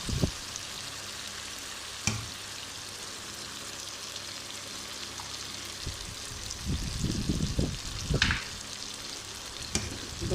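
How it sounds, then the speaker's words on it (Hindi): Eggs frying in a pan with potatoes and tomatoes, a steady close sizzle and crackle throughout, with occasional scraping stirs and soft clatters, no talk. "अब इसमें हमने अंडे डालने हैं।"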